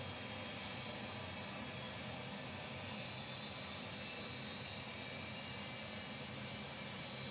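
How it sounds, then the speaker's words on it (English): Steady jet engine roar from an aircraft in a flight simulator as its engines run up after start, a constant broadband whine that fills the background with no voices. "And we've started the aircraft."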